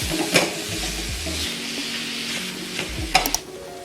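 Ground meat cooking in a pan over rising medium heat, stirred with a few scraping clatters at the start and end over a constant close sizzle, no voices.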